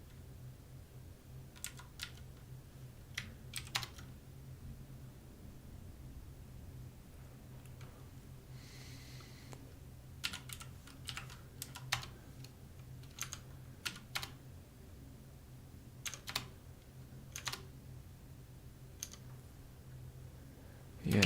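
Typing on a computer keyboard during a programming session, scattered bursts of light key clicks at irregular intervals over a faint steady room hum, fairly quiet and close.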